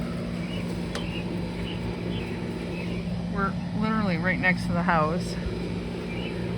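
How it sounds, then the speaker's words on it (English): A neighbor's air conditioner runs full tilt outdoors beside a house, a steady low hum beneath a man's nearby speech, with a few bird calls. "The noise you hear is the neighbor's air conditioner."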